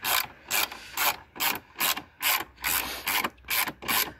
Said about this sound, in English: Attached 10mm extension and ratchet handle, left-handed as well.